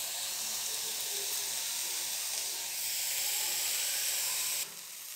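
Green chilli and tomato pieces fry lightly in oil for batani chaat, a steady close hiss of sizzling that runs unbroken throughout and drops slightly near the end, with no talk.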